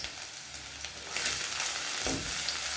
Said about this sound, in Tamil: நல்லா காய்ச்ச உடனே பூண்டு போட்டுக்கலாம். பூண்டு, இஞ்சி இது ரெண்டையும் நல்லா வணக்கிக்கலாம்.